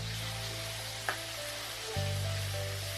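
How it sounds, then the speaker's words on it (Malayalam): Onions sizzle in hot oil with salt added in a pan for paneer butter masala, a steady close frying hiss with a faint stir clatter partway through and a low background hum. "പെട്ടെന്ന് ഉള്ളി ഒന്ന് ഫ്രൈ ആവാൻ വേണ്ടിയിട്ടാണ് നമ്മൾ ഉപ്പിട്ടിരിക്കുന്നത്."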